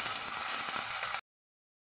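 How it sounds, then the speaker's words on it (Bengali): Potato pieces frying in hot mustard oil for a cauliflower-and-potato dish, giving a soft, steady sizzle with faint crackle for about a second before the sound cuts off abruptly. "আলুগুলো আমি দিয়ে দিলাম, এবার নেড়ে চেড়ে লাল লাল করে ভাজা হবে"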